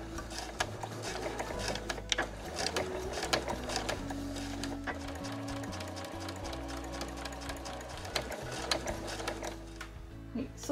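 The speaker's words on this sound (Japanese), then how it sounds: "今回ミシンでキワを縫っていきますので" A sewing machine stitches along the edge of a drawstring tote bag sewn from Marimekko fabric, its needle running in a steady, continuous mechanical whir with rhythmic ticking, quite quiet throughout.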